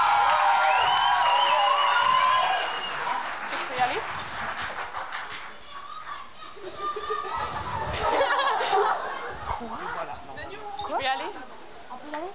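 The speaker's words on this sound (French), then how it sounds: "On les applaudit, mesdames et messieurs, allez!" Audience applause and cheering with shouts and children's voices for the final act of a regional secondary-school talent show finale, loud at first and then tapering into scattered crowd noise and chatter.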